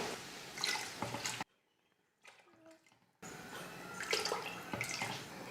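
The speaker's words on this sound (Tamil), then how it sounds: "4 கிளாஸ் அரிசிக்கு 6 கிளாஸ் அளவுக்கு தண்ணி சேர்க்க போகிறேன்" Water poured into a pot of rice for chicken biryani, six glasses to four of rice, as a soft close splashing that briefly cuts out, then returns.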